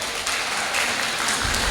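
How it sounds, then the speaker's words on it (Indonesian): An audience applauds in a dense, steady wash of clapping that swells slightly toward the end. "Beri tepuk tangan dulu buat BRI dong."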